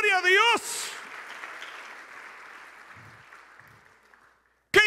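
Church congregation applause follows a sung or shouted voice, a broad wash of clapping that fades steadily over several seconds before another voice breaks in.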